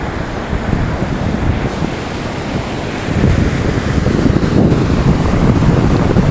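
Floodwater from a small river rushes under a bridge in a steady, loud, broadband roar that swells slightly partway through, with possible wind buffeting the microphone and no voices.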